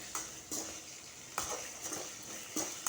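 Curry leaves fry in oil with chana dal, urad dal, mustard seeds, cumin and green and dried chilies for an okra dish, with a soft sizzle broken by about six clinks of stirring, close and faint.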